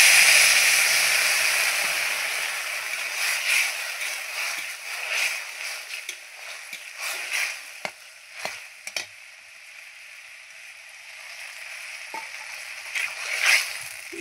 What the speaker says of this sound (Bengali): এবার দেবো এখানে ফুটিয়ে রাখা গরম জল আছে,